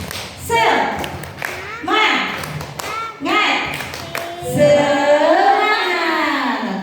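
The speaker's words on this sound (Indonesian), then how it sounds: "Kita tepuk semangat dulu. Tepuk semangat." A group in a school training session does a patterned clap chant, with sharp bursts of claps in rhythm alternating with voices chanting along.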